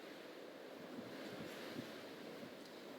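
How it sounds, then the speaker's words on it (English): Strong gusty wind from Tropical Storm Beryl roars steadily along the Texas coast, with surf-like rushing and buffeting gusts that swell and ease. "These are gusty winds, so it comes and goes."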